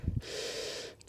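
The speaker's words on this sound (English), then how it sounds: "take a big breath in" A single long, steady inhalation during a gentle yoga session, smooth and close, lasting about a second after a brief soft rustle.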